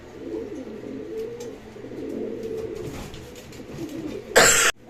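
Silver Lahori pigeons coo in soft, low repeated calls close by, with a sharp burst of noise near the end.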